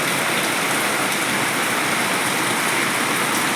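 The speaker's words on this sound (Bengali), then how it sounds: "দেখো কীভাবে বৃষ্টি পেয়েছি অঝরে।" Heavy rain pouring down steadily near a rooftop, a dense, unbroken roaring hiss, loud and close throughout with no talk.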